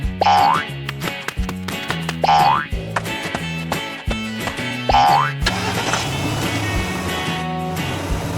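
A cartoon family car sets off and drives along, bouncy boing-like springy sounds repeating in rhythm over a jaunty musical backing, loud and close with no talk.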